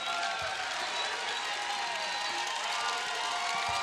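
A basketball crowd at an NBA D-League game, Los Angeles D-Fenders at Austin Spurs, cheering in the arena as a dense, continuous roar that holds at a constant loud level.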